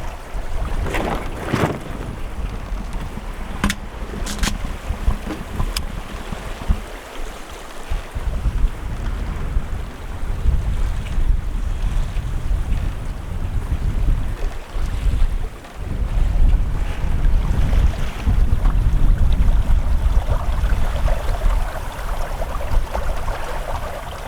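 Sailboat running downwind on a Finnish lake in October, with constant wind buffeting the microphone, water rushing and slapping along the hull, and occasional knocks from the rigging, loud and steady throughout with no voices.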